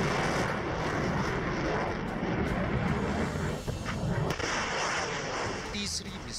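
Russian missiles launching over the Pacific Ocean, a loud roaring rush with sharp blasts and cracks, distant booms layered under someone narrating.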